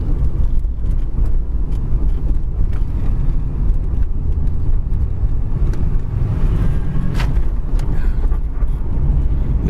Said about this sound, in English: This car might just be the small block V8, but the transmission kicks right down and the car sounds great.